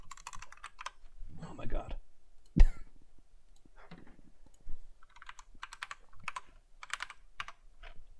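Short bursts of typing on a computer keyboard, clicky keystrokes in clusters with pauses between, one louder thump partway through and a brief spoken exclamation.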